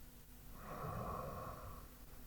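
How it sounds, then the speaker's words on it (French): A long, slow Ujjayi yoga exhalation, breath pushed through a narrowed throat with a steady hoarse rush that swells and fades over about two seconds, close and quiet with no talking. "Des longues expirations en engageant la glotte dans la respiration Ujjayi."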